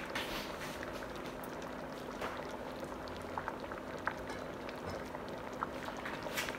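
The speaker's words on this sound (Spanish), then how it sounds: "Está hirviendo." Brown rice cooking with quinoa bubbles at a steady simmer in a pot, a continuous soft crackling burble with small pops, close and fairly quiet, with no talk over it.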